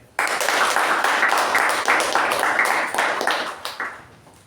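Steady applause from a Toastmasters meeting audience after an icebreaker speech, dense clapping starting abruptly, holding loud and even for about four seconds, then thinning out and fading at the end.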